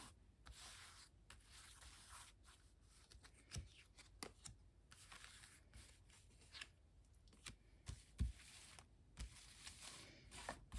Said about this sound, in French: je vais remettre tes cartes